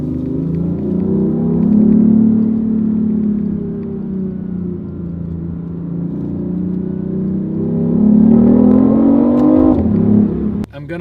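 BMW i8 hybrid supercar accelerating hard, a loud steady engine drone rising in pitch over several seconds, then dropping sharply as it eases off, heard from inside the car.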